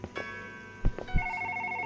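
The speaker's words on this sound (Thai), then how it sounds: "คุณโทรศัพท์ดังอีก" A mobile phone rings with a repeating electronic tone, sustained and moderately clear through the second half, with a few low thumps and bumps earlier and no talk.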